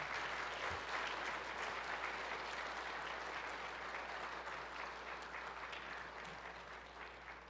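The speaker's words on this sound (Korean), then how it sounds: "우리 나오실 때 큰 환영의 박수 함께 올려드립니다." Congregation at a Korean Sunday church service applauding to welcome the pastor, a steady, dense wash of many hands clapping that fades slightly toward the end, with no talking over it.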